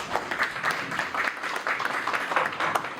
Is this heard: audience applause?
yes